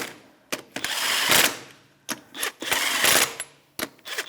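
Ratchet with a 21mm socket snugging the wheel lug nuts on a 2013-2018 Toyota RAV4, with several short, close bursts of rapid clicking separated by brief pauses.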